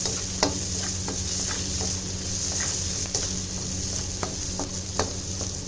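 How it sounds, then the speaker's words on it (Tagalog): Onions sauté in a pan for a simple sopas, a steady close sizzle broken by scattered sharp clicks and scrapes of a utensil stirring against the pan, with no talking. "Ilagay na natin ang ating sibuyas."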